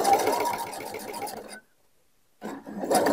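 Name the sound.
sewing machine stitching a bag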